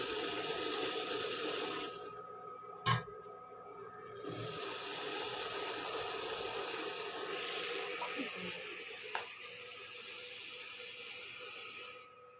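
Cold water is poured over steamed rice cakes (pitha) in a village kitchen, giving a steady hissing rush. The flow drops out briefly early on, then resumes, with a couple of soft knocks.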